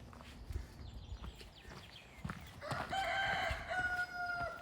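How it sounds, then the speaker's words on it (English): A cockerel crows once in the early-morning grounds of Wentworth Castle Gardens, a clear drawn-out call partway through, set against faint ambient rustling and soft footstep-like thuds. "I've just heard him crow."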